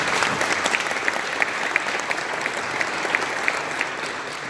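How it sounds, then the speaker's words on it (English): Conference audience at an awards luncheon applauding chapter members, a steady dense wash of clapping held at even strength throughout, with sharp individual claps popping out close by. "give all of our chapter members a big round of applause"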